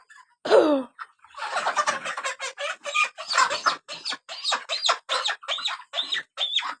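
Chickens on a poultry farm cluck and squawk in a rapid, irregular series of close, loud calls, one sharp cry at the start followed by steady overlapping clucks.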